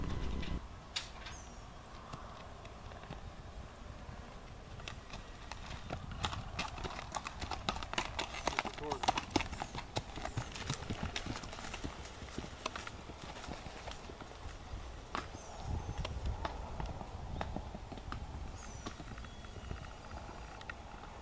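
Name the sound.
gaited horse hooves clip-clopping while being ridden on trail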